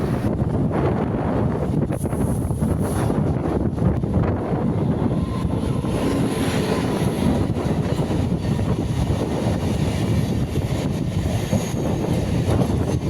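Loud, steady rumble and rattle of a local EMU electric train running between Avadi and Ennore, heard from inside the carriage with continuous wind noise and no talking.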